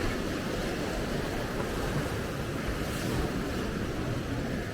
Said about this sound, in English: those waves look gnarly as fuck